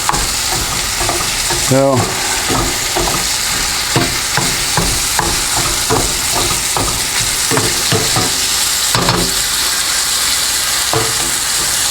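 Ground hamburger browning in a hot skillet, crackling with a steady loud sizzle while a utensil scrapes and stirs it in repeated knocks and scrapes; a voice speaks briefly.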